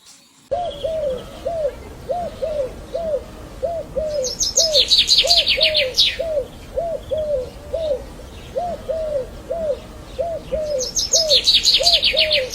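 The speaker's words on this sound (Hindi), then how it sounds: "यहाँ अलग अलग अलग टाइप के पंछी वगैरह बैठते रहते, तो अलग अलग साउंड निकाल रहे होंगे" Various birds calling from a tree beside a hillside house in Uttarakhand: a steady run of low cooing notes, like a dove, repeats throughout, and bursts of high chirping twitter break in twice, fairly near and clear with no talk.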